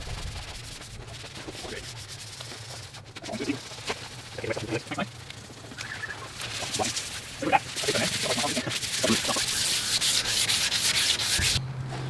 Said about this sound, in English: We've sanded it back, it's feeling glassy smooth.